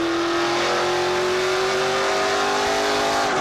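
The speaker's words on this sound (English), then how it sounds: "You never hear our engines rev up that slowly." A NASCAR Pinty's Series race car engine at the 2017 Total Quartz 200 holds a loud, steady high drone whose pitch climbs slowly as the revs build, with no talking over it.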